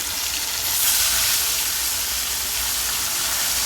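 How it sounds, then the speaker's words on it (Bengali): Parshe fish frying in hot oil, a dense continuous hiss and sizzle heard close and fairly loud throughout, with no talking. "প্রথমে পার্শে মাছটাকে গরম তেলে ভালো মতো ভেজে"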